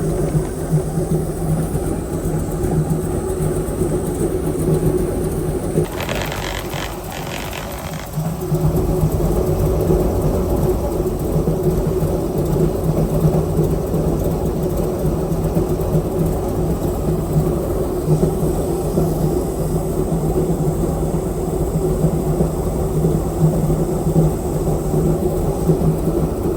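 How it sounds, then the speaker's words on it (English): An airboat engine warming up, a continuous deep rumbling drone with a brief change in tone early on before it settles back to a steady, loud idle. "we're just warming up the engine"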